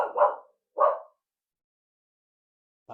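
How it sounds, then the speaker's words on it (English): A dog barks at a pigeon landing on the fence, two loud, close barks in quick succession and then a short third bark after a pause of silence. "The dog was upset that a pigeon had dared land on her fence."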